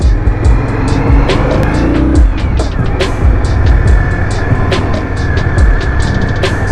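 A 2018 Indian Scout Bobber motorcycle ridden at night gives a steady, loud engine drone with wind rush and sharp ticking clicks throughout, without speech.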